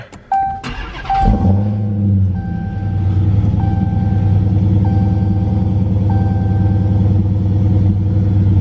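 A 2018 Dodge Challenger Hellcat starts with a loud starter crank and engine flare, then settles into a deep, steady rumbling idle while a soft electronic chime beeps repeatedly in the cabin.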